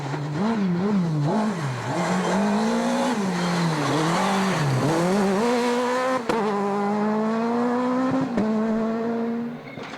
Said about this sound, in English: familiar sound of the Super 2000 of Swede Patrick Sandel Skoda took to the gravel